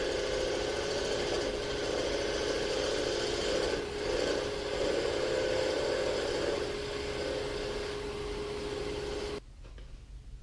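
A wood lathe spins a long wooden Christmas tree blank under a steady, fairly loud motor drone with a tonal hum and broadband cutting noise, continuing evenly before cutting off abruptly near the end.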